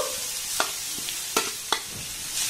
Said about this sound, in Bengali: এবার গাজর আর আলুটাকে একটু নাড়াচাড়া করে ভেজে নেব